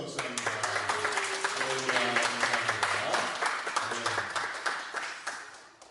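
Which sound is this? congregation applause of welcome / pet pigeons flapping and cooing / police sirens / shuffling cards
congregation applause of welcome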